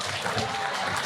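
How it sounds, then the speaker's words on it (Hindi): A Jashn-e-Rekhta festival audience gives a steady wash of applause to welcome a guest on stage, dense and even for the whole short stretch. "ज़ोरदार तालियों से इस्तकबाल कीजिए।"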